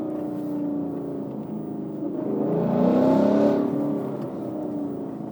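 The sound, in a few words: modified Ford Mustang GT exhaust note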